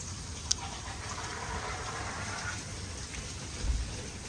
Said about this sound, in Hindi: अभी तो हो रही है बाहर बहुत ज़्यादा बारिश